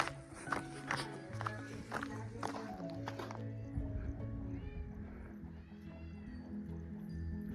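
A cat meows a few times amid shuffling footsteps and background chatter, fairly close, with a steady outdoor hum underneath, in Chorvali village.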